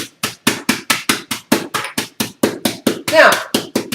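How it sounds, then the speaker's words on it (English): A small mallet repeatedly chopping and hammering nuts on a hard surface, a steady run of about fifteen sharp close knocks at an even, brisk rhythm, with one heavier, scrunchier blow near the end. "got my little mallet. And I'm just going to chop them"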